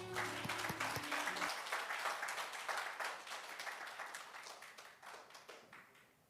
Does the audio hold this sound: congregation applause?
yes